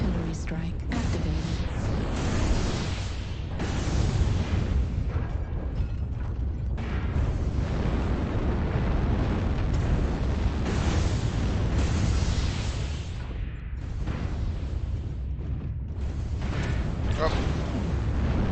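Rumbling artillery strike explosions in the mech combat game MechWarrior Online: a dense, continuous roar of booms and low-end blasts runs loud throughout, with mechanical game effects mixed in and no clear gaps.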